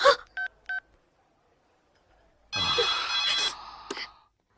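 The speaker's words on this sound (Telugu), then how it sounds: "అన్నకు ఫోన్ చేసి ఇస్తాను" A telephone being dialed: two short beeping key tones close by, followed after a pause by a longer burst of ringing and electronic tones, then a brief final tone.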